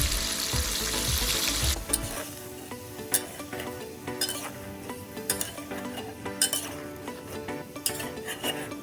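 Chicken frying in oil in a karahi, a steady close sizzle with scattered metallic clinks and stirring scrapes from a utensil against the pan.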